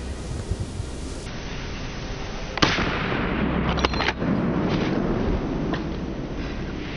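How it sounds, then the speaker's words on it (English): A single sharp gunshot from a wild boar hunt in a forest cracks out loud against steady outdoor rumble, followed by a couple of fainter pops. "a sharp gunshot rang out"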